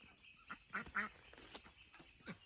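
Ducks quack softly in a homestead duck area, a few nasal calls overlapping at moderate distance over faint outdoor background, with no one talking.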